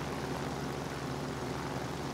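A plane's engine drones in the combat flight game War Thunder, a steady low propeller-like roar with no breaks, moderately loud and alone.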